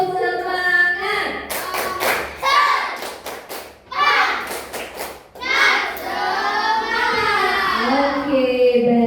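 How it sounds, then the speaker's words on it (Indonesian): Schoolchildren in a classroom perform a rhythmic spirit clap, with bursts of clapping in patterned groups mixed with loud children's chanting voices, followed by a teacher speaking. "Tepuk semangat."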